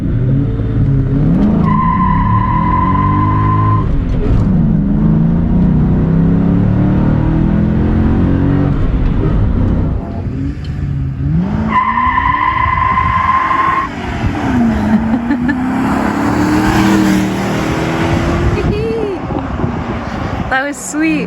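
A 1997 Ford Mustang Cobra SN95 launches hard from 0 to 60 mph. Loud engine revs climb and fall through the gears, with tire noise and a couple of electronic beeps. Occupants talk throughout.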